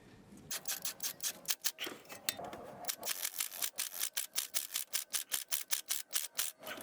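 A ratchet wrench snugs the bolts of an Audi/VW CV axle half shaft onto the transmission flange. Crisp, rapid, evenly spaced clicks come up close in bursts that settle into a steady run.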